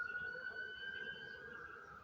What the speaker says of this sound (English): the sirens are going by